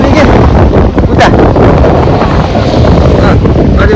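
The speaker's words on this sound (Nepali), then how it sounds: "यता एकदम हावासावा लागिरहेको छ" Strong sea wind buffets the microphone aboard a fishing boat off Osaka, Japan, a loud continuous roar with gusts and water noise, while people talk underneath.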